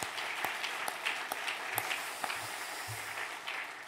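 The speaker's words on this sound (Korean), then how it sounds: "우리 함께 자축의 격려의 박수 보내겠습니다" A church congregation applauds in encouragement at a New Year special dawn revival service, a steady, fairly faint wash of clapping with a few sharper individual claps, heard from some distance.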